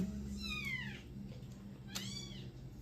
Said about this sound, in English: I think somebody just stepped on the other cat. On the kitten.